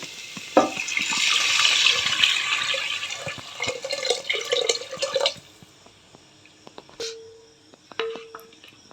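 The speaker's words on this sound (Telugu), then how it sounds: "ఇప్పుడు మనం చింతపండు గుజ్జు, టమోటా ప్యూరీ ఉంది కదా అదైతే ఇందులోకి యాడ్ చేసేస్తున్నా" Tamarind pulp and tomato puree are poured into a rasam pot, making several seconds of splashing, gurgling liquid followed by a few scattered drips and small clinks.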